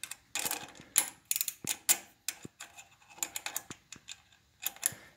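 An 8mm wrench works the nuts loose on a riding lawnmower, giving close, quiet ratcheting clicks in irregular bursts with short pauses between.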